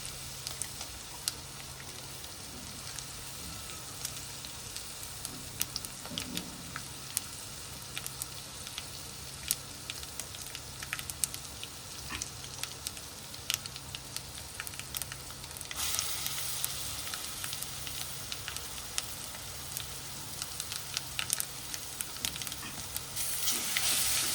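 Ginger garlic paste frying in hot oil, with urad dal in the tempering, for Gujarati-style bataka vada; a steady close sizzle and crackle holds throughout and swells louder and brighter in the final stretch.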